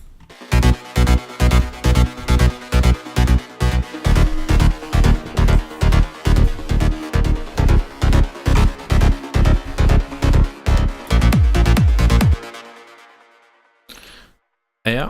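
Full trance mix built in Ableton Live, with a punchy four-on-the-floor kick, arpeggiated bass and an atmospheric pad layer, loud and steady before cutting out near the end, followed by a brief burst.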